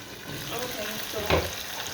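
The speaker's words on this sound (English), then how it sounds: "I add the saltfish now." Saltfish frying in a pan for ackee and saltfish, a steady soft sizzle with a brief louder burst as it is tossed in, close and alone.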